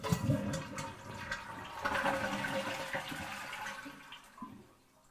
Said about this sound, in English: when you're flushing the toilet